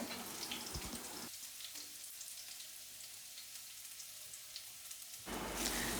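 Chopped garlic and spices such as cinnamon, cloves and cardamom sizzle in hot coconut oil for a Kerala chicken stew, a steady, fairly faint hiss with a louder burst of crackle at the end.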